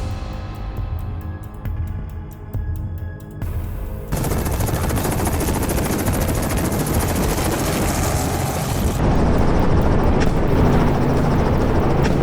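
Helicopter in flight during boar hunting, its rotor chopping in rapid even pulses that shift into a louder, rougher roar with dense rattling bursts layered on top, sustained throughout.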